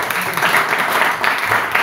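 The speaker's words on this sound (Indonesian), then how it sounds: "Oke, tepuk tangan." A classroom of students claps together in a brief, dense burst of applause, fairly close and loud, with no talking over it.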